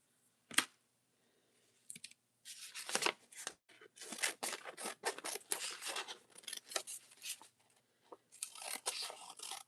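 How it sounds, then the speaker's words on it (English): Scissors snip through paper to cut out a swirl shape, close and crisp, first in a couple of isolated snips and then in a busy run of quick, irregular cuts with short pauses between. "And you cut this out and you have a little swirly thing like that."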